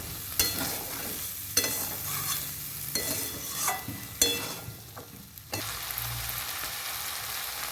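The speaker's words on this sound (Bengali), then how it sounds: "এখন ঘুগনির মটরটা দিয়ে দেবো ভালো করে কষিয়ে নেব" Dried peas for ghugni are stir-fried in a pan, with a loud continuous sizzle broken by repeated scraping strokes of a spatula, close and without voices.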